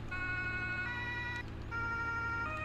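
In the farming game Landwirtschafts-Simulator 17, a fire engine sounds its Martinshorn, with steady alternating two-tone blasts and brief pauses between them. The siren is moderately quiet and no one speaks over it.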